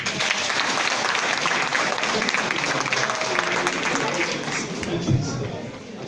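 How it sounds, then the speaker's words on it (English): A meeting audience of a UK and Ireland political party gathering gives a sustained round of applause, dense steady clapping for the full stretch, with some crowd voices mixed in, tapering slightly at the end. "I'll give you a round of applause again, please."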